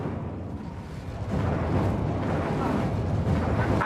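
Incendio fire spell cast in a Harry Potter video game, a dense roaring burst of flame that swells and holds loudly for several seconds.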